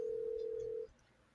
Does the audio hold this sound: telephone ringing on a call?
yes